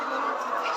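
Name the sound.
chickens clucking on a poultry farm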